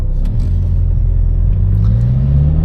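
A Lotus Emira sports car accelerates with a deep, continuous engine rumble close by, its pitch climbing steadily as it pulls away from a red light.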